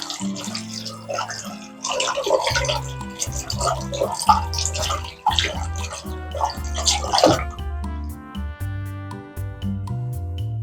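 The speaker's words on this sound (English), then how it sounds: "rub my brushes on to clean them. And rinse." Makeup brushes are rinsed under running water in a bathroom sink and rubbed on a matte cleaning mat, with a steady splash and trickle under louder background music.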